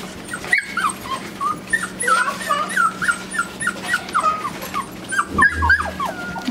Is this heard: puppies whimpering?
yes